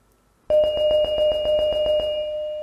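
Bright synthesized glockenspiel notes ripple in a quick, even arpeggio over a sustained tone, ringing steadily and clearly for a couple of seconds.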